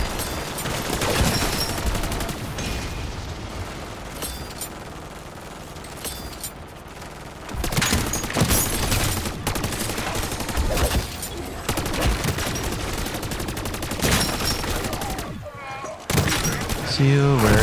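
Turret gunfire from Call of Duty MWZ, heard as dense, sustained bursts of automatic fire mixed with thuds and explosions, loud and close, with brief lulls and talk running over parts of it.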